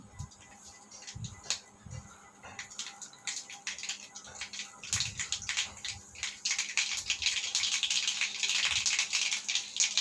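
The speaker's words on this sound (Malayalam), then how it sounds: "വെളിച്ചെണ്ണ ഒഴിച്ചിട്ട് കടുക് നല്ലോണം ഒന്ന് പൊട്ടട്ടെ" Mustard seeds splutter and pop in hot coconut oil while a tempering is made for chutney, scattered crackles at first that thicken into a dense, close sizzle.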